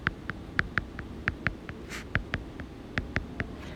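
A pen writes in red on a board or screen, making a quick series of short, evenly spaced taps and strokes at close range.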